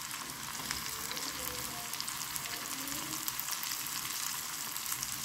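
Chopped tomatoes and chili powder frying in hot oil in a pan for spicy liver curry, giving a steady, close, crackling sizzle that holds evenly throughout.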